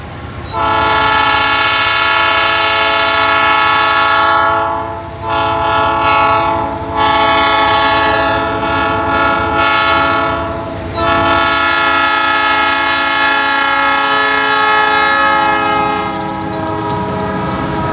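Heavy CSX freight locomotives labor up a steep grade, blasting a loud, sustained multi-note horn with a few short breaks, close by, while the engines roar steadily underneath.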